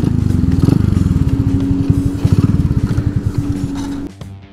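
A Honda C70 motorcycle engine runs close and loud with a fast, steady putter, then a gear engages with a clunk and the engine note drops off near the end.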